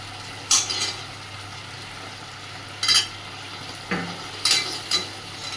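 Sautéing in a pan with soy sauce, vinegar and tomato sauce, a low steady sizzle broken by several distinct spatula scrapes and clinks against the pan, close and without speech.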